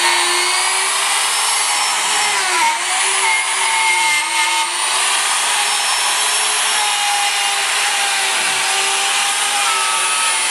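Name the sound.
drill drilling through wooden frame pieces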